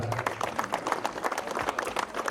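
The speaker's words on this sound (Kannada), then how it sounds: "ಜೋರು ಚಪ್ಪಾಳೆ ಬರಲಿ" Applause at a police Holi celebration in Davanagere comes from a crowd clapping quickly and irregularly with sharp, dense hand slaps. The clapping is close, lively and steady, with faint voices mixed in.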